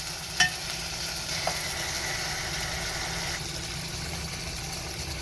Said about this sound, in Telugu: టమాటో, చింతపండు వేసి ఇది కూడా ఒక 2 నిమిషాల సేపు కలుపుదాం